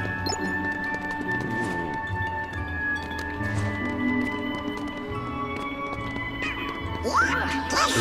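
A horse whinnies over the Kingdom Hearts 3 soundtrack, with hoof clops and a sustained musical hum underneath and a voice speaking.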